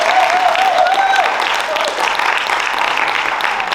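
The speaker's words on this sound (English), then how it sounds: "Let's give the parents a round of applause." An audience at an oratorical contest applauds the participants' parents, a broad wash of clapping running throughout, with a brief tonal whistle or feedback-like sound near the start.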